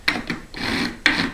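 A metal file scrapes back and forth along the frets of a 1978 Martin HD-28 acoustic guitar during a refret, giving three close, rasping strokes, one longer than the others.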